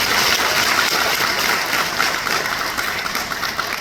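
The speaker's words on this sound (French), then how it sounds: "Est-ce qu'on peut applaudir pour Roland?" An indoor audience applauds in appreciation of a person named Roland, with loud, dense clapping throughout that fades slightly toward the end.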